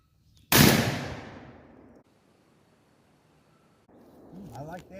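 A Browning BPS 12 gauge pump shotgun with a 26-inch barrel fires a single Winchester Super-X 3-inch turkey load at an outdoor range, one loud sharp blast with a decaying tail, followed by faint noise and a brief voice.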